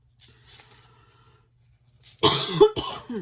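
A few quiet scattered sounds, then a sharp burst of loud, harsh asthmatic coughing, two or three coughs in quick succession, close up.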